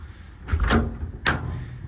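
A metal drawer in a truck service body slides and shuts with a scraping rumble, followed by a second short sliding clunk, close and fairly loud.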